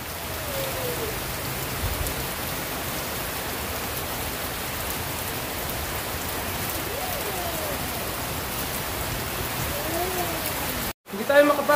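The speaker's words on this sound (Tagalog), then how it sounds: "Sobrang lakas ng ulan. Malakas din yung hangin." Heavy rain from Typhoon Carina pours down in a dense, steady hiss on surfaces, constant and enveloping, with faint voices barely audible beneath before a brief cut near the end.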